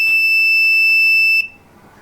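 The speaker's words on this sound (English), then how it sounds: "If something will come in behind the bike, back of the bike, then a buzzer will also beep." The rear object-detection buzzer on a homemade smart helmet emits one loud, steady electronic tone for about a second and a half, then cuts off and leaves quiet background.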